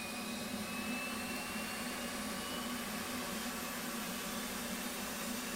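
F/A-18 auxiliary power unit spooling up in the DCS flight simulator, a steady broadband whine and rush with a low hum, holding constant and alone throughout.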